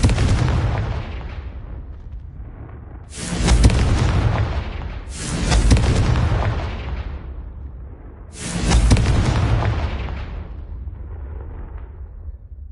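Confringo fire spell in the Hogwarts Legacy video game, a series of four heavy booming blasts, each rising sharply and rolling off into a long rumbling decay, with a quieter explosive tail between them.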